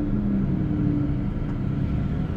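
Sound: car engine revving

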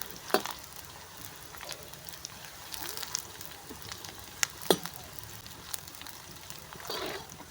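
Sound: onions frying in pan over wood fire

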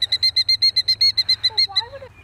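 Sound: bird calling indoors

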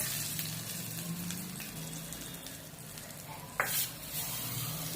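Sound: hot chili tempering sizzling as poured onto chutney

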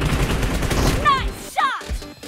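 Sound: gunshots in PUBG Mobile video game

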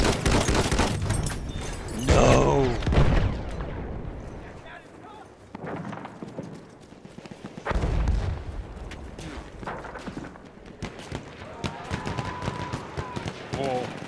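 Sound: machine gun fire in the video game Battlefield 1

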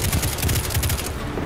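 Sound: gunfire in Destiny 2 video game

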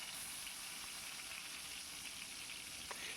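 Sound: boiled eggs and potatoes frying in oil

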